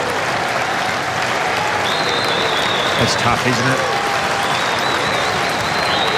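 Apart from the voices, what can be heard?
football crowd applauding injured player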